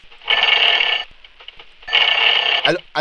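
A telephone rings in two long, bright electronic bursts separated by a pause, loud and close, followed by a voice speaking at the end.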